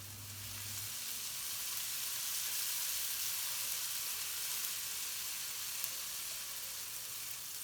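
Ginger and garlic paste frying in a pan for a British Indian restaurant curry, a steady, even hiss of sizzling oil heard up close with no talking.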